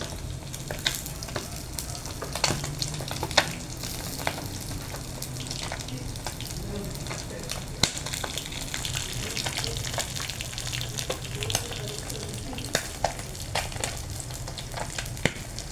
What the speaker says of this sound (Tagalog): Tumatalsik na ang pritong galunggong. Tumatalsik na ang ating mantika.